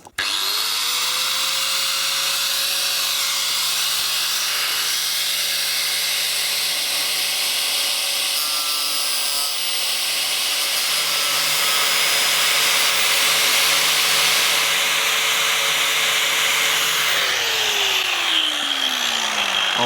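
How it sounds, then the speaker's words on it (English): An angle grinder cuts into a headlight skull on a Jeep, giving a loud, steady high-pitched whine with gritty grinding texture that runs nonstop for about twenty seconds, with the motor pitch dipping briefly near the end. "Let's grind."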